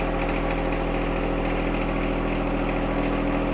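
A John Deere 1025R compact tractor engine idles steadily at close range, a continuous low rumbling drone with even vibration and no voices.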